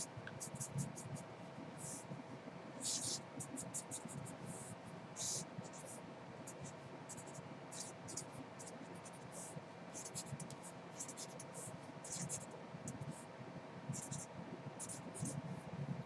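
A pen sketches a diagram on paper in quick, light scratchy strokes with short pauses, close and quiet, against soft room hiss.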